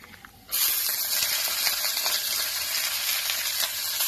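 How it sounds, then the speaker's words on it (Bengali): Leafy greens drop into a hot pan already seasoned with garlic and dried red chilli, bursting into a loud, steady sizzle after a brief quieter moment and hissing continuously to the end. "এই যে শাকটা দিয়ে দিলাম।"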